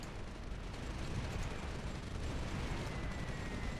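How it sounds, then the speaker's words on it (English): Aircraft bombing explosions in Supreme Ruler 2020, a faint continuous rumble of distant blasts rolling on without clear breaks. "Look how hard we're bombing you."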